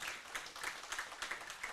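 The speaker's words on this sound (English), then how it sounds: "Give him a round of applause." Brief, fairly faint audience applause for a young Mayo Autocross winner at a Donegal International Rally preview event, a short burst of scattered clapping heard from a moderate distance.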